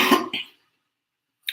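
One close cough trails off into silence, followed about a second later by a brief sharp hiss-like sound.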